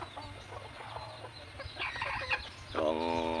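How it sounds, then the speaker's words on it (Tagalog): A hybrid red junglefowl (labuyo) rooster is heard over faint clucks and background noise, then lets out a clear, close crow toward the end. "ito mga kanter ay saring labuyo"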